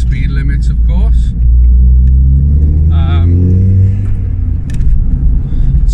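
An upgraded Ford Fiesta ST driven on twisty roads: a loud, steady engine rumble with slight rises in revs, under someone talking throughout.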